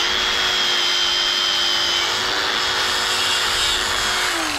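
A wire brush spinning on a power drill scuffs a rusty truck bumper on a Bubble Eye Silverado, giving a steady, loud, continuous grinding whine close by with no pauses.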